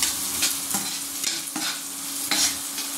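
Chopped onion frying in a pan for bread upma, a steady sizzle broken by a few sharp scraping stirs, close and fairly quiet, with no voices.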